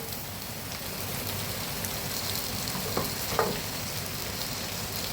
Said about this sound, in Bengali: এবার এর সঙ্গে আমি সমস্ত সবজিগুলোকে এই যে ভেজে নেব।